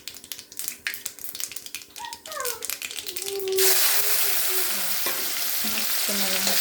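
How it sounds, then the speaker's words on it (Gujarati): Mustard seeds and cumin hit hot oil, starting with scattered crackles and stirring clatter, then swelling into a loud, dense sizzle that carries on with a few utensil knocks. "હવે આપણે રાઈ અને જીરું નાખીશું. જો રાઈ અને જીરું તતડી જાય"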